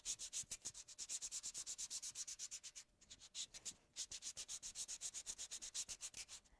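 Sandpaper rubs briskly over a decoupage project in quick, even back-and-forth strokes, a close, crisp scratching rhythm with one short pause midway.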